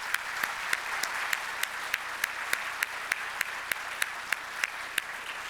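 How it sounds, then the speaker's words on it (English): Audience applause for a panel at an intelligence and national security summit, a dense, even patter of many hands at moderate distance, punctuated by a regular sharp tick repeating roughly every third of a second. "please join me in a round of applause for our panel"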